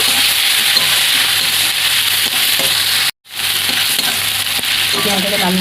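A whole onion fries in a little oil for a Bengali begun chingri, with a loud, continuous sizzle and occasional stirring scrapes, broken by a brief cut midway, then sizzling on.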